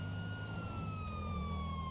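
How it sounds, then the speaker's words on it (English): A police siren wails continuously and loudly from a sheriff's patrol car chasing a Ford F-150 in GTA 5 LSPDFR, a steady electronic tone sliding slowly in pitch with no talk over it. "Siren always helps."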